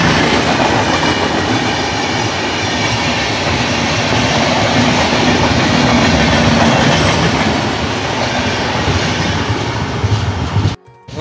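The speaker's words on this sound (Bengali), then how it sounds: "হাওড়া থেকে যোগনগরী ঋষিকেশ দুন এক্সপ্রেস কিন্তু থ্রু বেরিয়ে যাচ্ছে।" A Howrah–Yog Nagari Rishikesh Doon Express runs through an Indian railway station without stopping, heard very close and loud as a continuous roar with rhythmic wheel clatter over rail joints, cutting off abruptly at the end.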